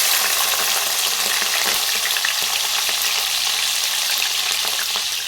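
Cumin seeds and green chilies crackle and sizzle in hot oil for a tomato curry, a steady, loud frying hiss with faint stirring, no voices.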